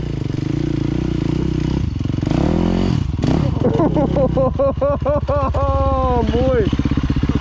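Motorcycle ridden over bumpy ground on a bush track at a farm in Whangaruru, the engine rising and falling unevenly with clattering jolts, with a rider talking close over it throughout.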